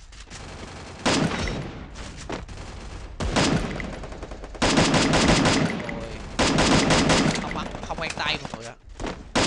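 Test-shooting a gun in the mobile battle game Free Fire: several loud bursts of rapid gunfire in quick succession, interrupted by short pauses, with someone talking over and between the shots.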